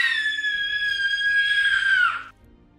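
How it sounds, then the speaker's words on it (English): A person lets out one long, loud, high-pitched scream that holds for about two seconds, then cuts off sharply into quiet. "Please don't tell people I scream like that"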